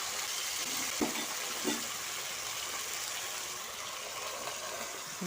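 Onion and five-spice seeds sizzle in hot oil in a pan for chicken khichuri, a soft continuous fry with a couple of faint clinks early on.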